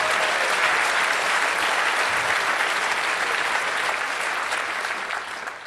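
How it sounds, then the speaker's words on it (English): Dense, sustained audience applause fills a conference closing ceremony hall, steady and loud throughout before tapering off slightly in the final moment. "I think they can have 1 applause more,"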